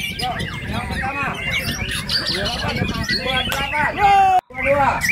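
White-rumped shamas (murai batu) at a songbird contest, with loud, varied whistles, squawks and chirps crowding over each other at close range while people talk over them and a crowd murmurs in the background.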